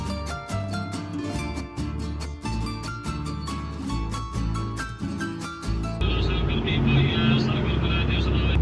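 Manual truck engine pulling steadily in seventh gear along a narrow road, a continuous loud drone with harmonic engine tones and a rougher, broader texture in the final seconds.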